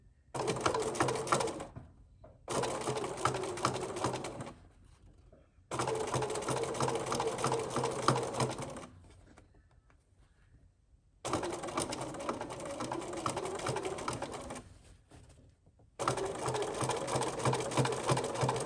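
A sewing machine stitches along a curved waistband with a rolled top seam, running in four steady bursts of a few seconds each, separated by brief pauses as the fabric is repositioned.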